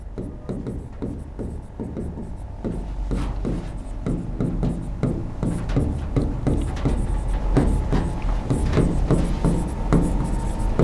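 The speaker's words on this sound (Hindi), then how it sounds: "मैं यहां पर 5वीं भी एक लाइन लिखता हूं" Steady scratching strokes of a marker or chalk writing a line on a board during a lecture on the constituent assembly, close and continuous with rhythmic taps, with no talking.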